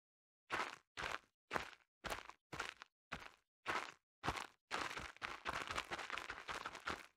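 Designed footstep effects for game audio, made as a sound-design demonstration: about nine distinct, evenly spaced steps with sharp attacks and clean silence between them, then a faster, denser run of overlapping steps, all close and isolated.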